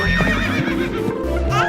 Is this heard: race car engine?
no